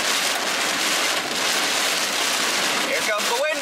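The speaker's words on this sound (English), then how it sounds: "A little bit of hail now. Got a couple little stones there." Small hailstones falling during a storm in northeast Nebraska, a loud, dense, steady hiss and patter of ice striking surfaces with no letup, and a voice briefly rises above it near the end.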